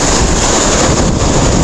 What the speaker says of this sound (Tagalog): Tingnan natin at nandiyan yung alon